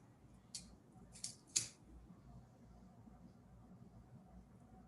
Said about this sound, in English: For the scallions, instead of chopping it, I usually just use a scissor.